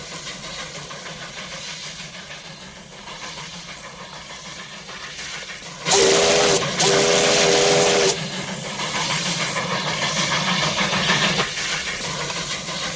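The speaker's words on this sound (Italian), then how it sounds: "Solo Smokestack è in grado di far filare un treno così veloce." A steam train's rumbling, hissing rail noise rolls on steadily in a 1953 Western film, broken midway by a loud, piercing steam whistle blown twice in quick succession.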